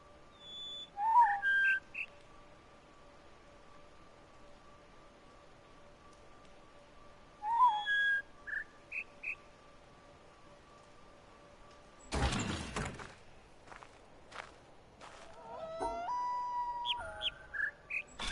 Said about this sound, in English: what is the last tone of that bird?